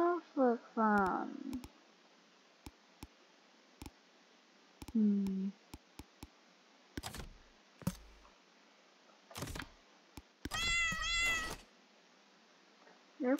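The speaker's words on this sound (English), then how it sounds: "You're going to meow the whole time" A cat meows several times in short, high, wavering calls, close and fairly clear, scattered among sharp clicks and brief bursts of noise in an otherwise quiet room.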